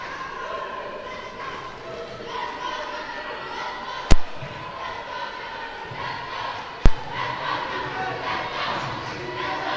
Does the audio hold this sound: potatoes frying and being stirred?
no